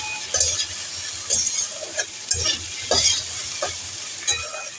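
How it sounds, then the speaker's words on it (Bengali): Over a low flame, a spatula stirs shrimp and kochur loti (taro stolons) in a sizzling pan, giving regular scraping strokes about every half second over a steady hiss; no voices. "এটা দিয়ে লো ফ্লেম করে এবার এইগুলোকে নাড়বো।"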